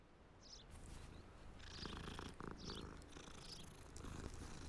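A cat purrs steadily in Hogwarts Legacy, a continuous low rumbling loop with soft rising textures, close and moderately loud throughout, with no voices over it.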